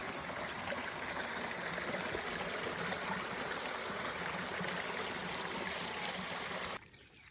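A mountain stream rushes and burbles steadily, a continuous watery hiss that cuts off abruptly near the end.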